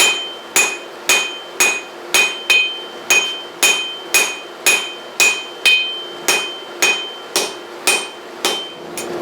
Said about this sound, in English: just go back to forging out your taper